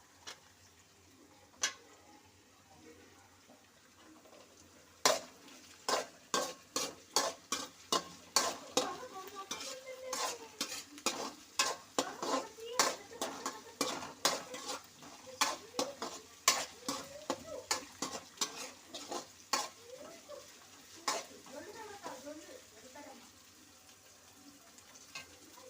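Cut green chillies fry in hot oil in a pan with ginger and garlic, while a spoon scrapes and clatters against the pan in a quick, steady series of close, sharp knocks over a soft sizzle.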